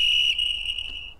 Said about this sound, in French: On a le fameux klaxon sifflet